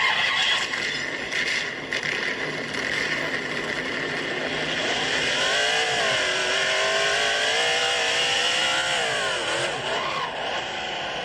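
A NASCAR race car engine in the Drive Empire video game roars continuously at high revs, its pitch rising and sweeping up and down as it accelerates, loud and steady throughout with no talk over it.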